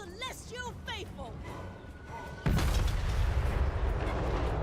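Cannon fire in the video game Total War: Warhammer 3. Voices come first, then a sudden loud blast about midway that swells into a sustained, dense battle rumble.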